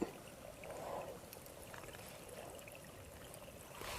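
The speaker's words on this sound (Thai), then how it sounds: "เป็นลำธารนนะ" A forest stream flows and trickles continuously over stones, a soft steady babble at low volume with no voices.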